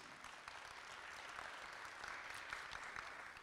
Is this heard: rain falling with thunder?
no